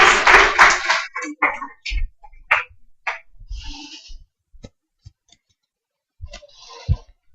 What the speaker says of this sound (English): Rubina, clap.